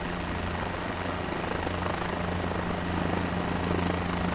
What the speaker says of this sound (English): with your helicopter flying over the cathedral